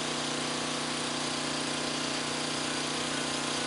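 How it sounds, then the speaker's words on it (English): Motor on a dead man valve setup straining under rising load as pressure builds, a steady, dense, fairly faint mechanical hum with broadband noise, alone without talking. "You can hear a load starting to pick up on the motor."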